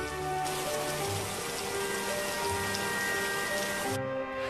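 Steady rain pours down over farm fields, a dense, continuous hiss of drops on surfaces with a faint tonal hum running underneath, holding at an even level throughout.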